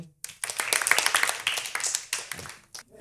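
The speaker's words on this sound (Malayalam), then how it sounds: "കൈയടിച്ചെല്ലാവരും." A small group on a children's television show claps together: brief silence, then choppy, uneven hand-clapping that swells and dips before fading out near the end, fairly close and without talk.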